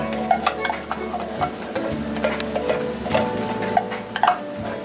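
Bacon in alfredo sauce gets stirred in a pan, a utensil scraping and clinking against the metal in irregular strokes over a low sizzle, close up and without talk.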